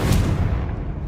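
A Confringo fire-blast spell bursts in Hogwarts Legacy, a single loud, close boom with a sharp onset and a rumbling low-heavy tail that fades slowly over about a second, with no voices.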